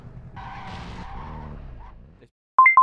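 Car skidding in the video game Warzone MW2, a loud tire squeal and engine roar for about two seconds that fades out, followed by a few sharp game interface beeps.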